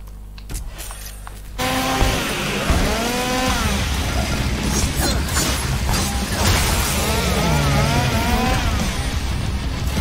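Chainsaw-wielding enemies in the video game Devil May Cry, where a sudden loud burst gives way to a continuous, revving saw-engine drone with rising and falling whines, layered with game effects and held at full volume for most of the clip.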